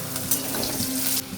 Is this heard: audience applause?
no